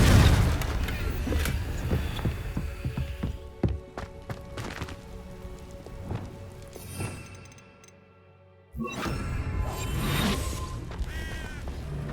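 A Confringo blasting spell explodes in the video game Hogwarts Legacy, with several sharp booming bursts spread across steady in-game noise. The sound drops out briefly, then a loud blast of noise returns.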